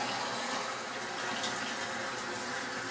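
Water running into a cooking pot while making chicken soup from scratch, a steady close splashing pour with no talk.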